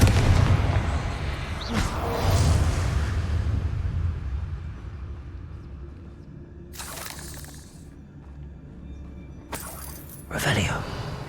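Confringo fire spells burst in the video game Hogwarts Legacy with sharp, booming crackles, two distinct blasts standing out over a rumbling game background.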